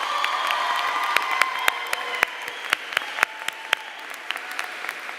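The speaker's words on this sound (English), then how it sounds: "let's give them all a nice one more round of applause" An audience at a dental hygiene pinning ceremony gives a round of applause, steady and fairly close, with sharp individual claps standing out over the dense wash and a few faint cheers mixed in.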